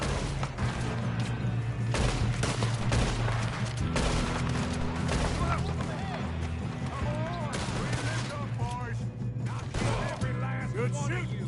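Gunfire in a western video game, a steady run of shots over a constant musical score with mechanical clatter, and a voice speaking at moments.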